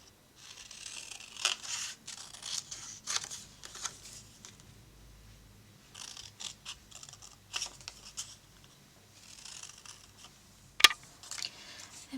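Scissors snip through pattern paper to cut out a letter A shape in a run of close, quiet, crisp cuts and paper rustles, with one sharp click near the end.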